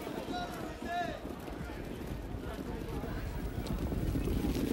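Harness racing horses set off at the start of the Woodrow Wilson race, with faint hoofbeats under steady wind-like crowd and track noise and a voice talking over it.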